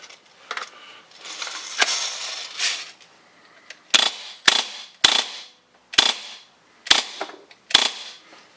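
An airsoft Hi-Capa pistol fitted with a TAPP drum magazine fires six crisp, snappy shots about one second apart, close and loud, after a stretch of soft handling and mechanical noises.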